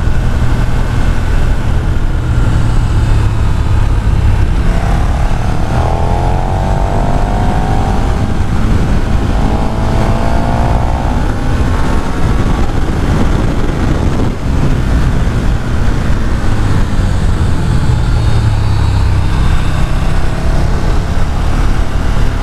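A 2021 KTM 1290 Super Duke R motorcycle engine roars continuously while riding, rising and falling through several rev sweeps, loud and close throughout.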